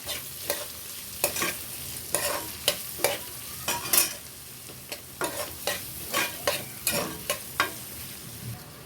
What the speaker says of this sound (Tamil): ஸோ நம்ம இதை வந்து லைட் ப்ரௌன் கலர் மாறுற வரைக்கும் நம்ம வந்து வதக்கிடலாம்